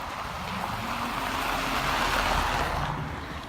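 Traffic rolls through Paris streets, a continuous broad rushing wash of passing vehicles, fairly loud and steady without distinct horns or voices.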